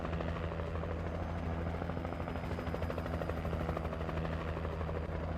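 Steady rotor thrum of a helicopter in the video game Alan Wake, a constant pulsing drone with no break throughout.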